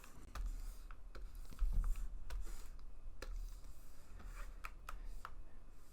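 Keyboard keys tapped in quick succession while nudging a text layer in Photoshop, a run of light, close clicks spread irregularly over several seconds with no talking.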